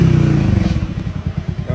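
A motorcycle pulls up with a steady, loud engine hum that breaks into a rhythmic chugging pulse as it arrives close by.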